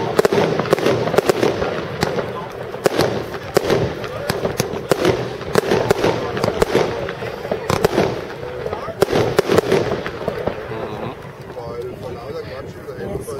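A JW 107 fireworks battery with 19 shots of 25 mm fires at a Pyroforum 2015 demonstration, sending out a rapid series of loud, sharp bangs and crackles. Voices talk under the barrage.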